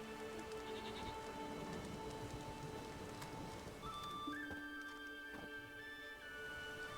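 Steady rainfall in The Witcher 3, a soft continuous patter on surfaces with faint tonal music and ambient game sounds layered over it, no speech heard.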